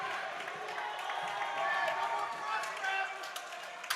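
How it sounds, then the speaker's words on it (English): A Kennett ice hockey crowd roars steadily in an arena after a go-ahead goal, a dense wash of cheering and shouting that holds for several seconds with a few sharper peaks near the end. "The Kennett crowd's going crazy."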